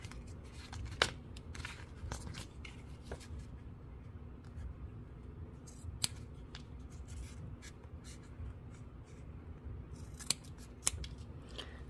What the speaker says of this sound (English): trim that corner out without cutting the zipper on both sides